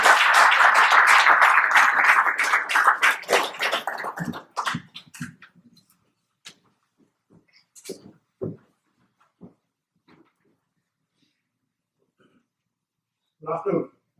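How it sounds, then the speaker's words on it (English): Audience applause welcoming a speaker to a talk on India-Israel relations, a dense burst of clapping that tapers off within a few seconds into scattered claps, then near silence with faint shuffling and a brief sound at the end. "please give a warm round of applause to Dr. Ray"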